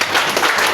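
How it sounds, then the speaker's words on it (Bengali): An audience at a training session applauds loudly, a brief, dense wash of many clapping hands close by with no pause. "জোরে একটা করতালি"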